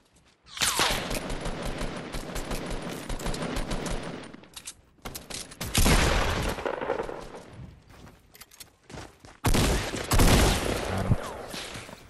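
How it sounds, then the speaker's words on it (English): Gunfire from another player in the Fortnite video game, sustained bursts of rapid shots in three loud volleys with short pauses between, fairly close. "Somebody else shooting at us."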